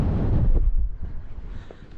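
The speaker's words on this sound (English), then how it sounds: "I'm back in the wind now." Gusty wind buffets the microphone on the exposed summit of Snowdon, heavy rumbling at first, then easing into lighter, uneven whooshes.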